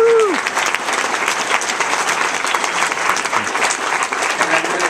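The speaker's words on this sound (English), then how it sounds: "let's give them a big round of applause" Sustained applause from a crowd at an ACLU conference in Sacramento, dense steady clapping with a few cheers rising above it, continuing throughout.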